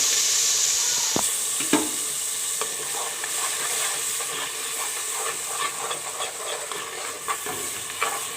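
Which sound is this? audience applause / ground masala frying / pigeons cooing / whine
ground masala frying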